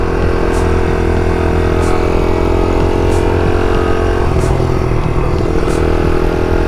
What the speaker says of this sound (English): runs and drives like a brand new motorcycle